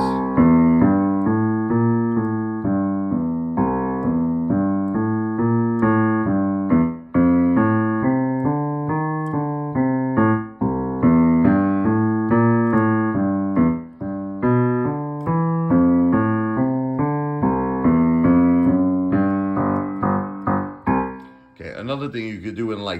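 Blues played on the piano with the left hand: a steady, rolling boogie-style bass pattern of repeated walking notes, loud and close, continuing for over twenty seconds with brief breaks before a final flourish.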